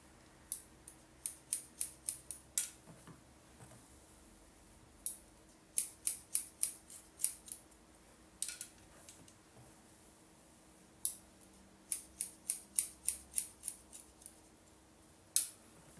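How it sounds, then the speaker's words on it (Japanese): Scissors snipping hair during a short haircut for an adult woman, crisp close snips in quick bursts of several cuts separated by brief pauses, with no talking. "ハサミもちょっとこういうふうに丸くしていきながら切っていきます。"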